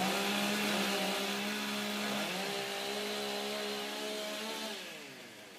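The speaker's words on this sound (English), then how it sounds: "Okay, ladies, warm up your saws." Chainsaws warm up at a STIHL Timbersports women's competition, their engines droning together in a loud, sustained whine with pitch rising and falling as throttles shift, easing slightly toward the end; no speech.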